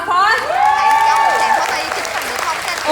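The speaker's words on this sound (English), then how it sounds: "Please give yourself a big round of applause." Audience at a Nu Skin Vietnam success seminar applauding and cheering, a dense wash of clapping filling the hall throughout, with tonal shouts and voices rising over it.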